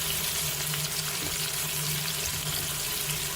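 Bacon lardons and chopped onion fry in a Cookeo multicooker, giving a steady close sizzle with a faint watery crackle and no talking.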